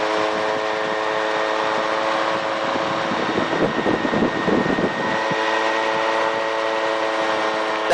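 A gyroplane's engine and spinning rotor in flight, a steady droning hum with strong tonal whine that swells into a rougher, louder burst of power midway before settling back.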